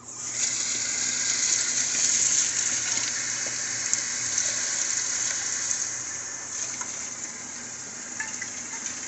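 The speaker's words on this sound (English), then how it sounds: "Just take your gunk over to the sink and just wash it out." Steady rush of tap water running into a sink while a mead bottle is rinsed out, loud and close, with faint clinks and shifts in the flow.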